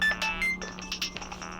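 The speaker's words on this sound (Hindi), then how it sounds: "यादव सर का फोन है।" An electronic phone ringtone for an incoming call plays a brief, bright repeating melody on its own, fairly loud and close.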